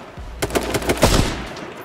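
A quick burst of about six gunshots in a first-person shooter video game, fired in a fast rhythmic string at close range and loud, trailing off into a brief echo with no talking.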